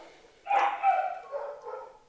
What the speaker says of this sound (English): As you can see, we have several dogs back here